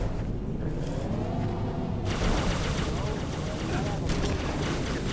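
Rapid automatic gunfire and explosive bursts from a combat video game firefight, dense and continuous throughout, with a louder burst of shooting kicking in midway.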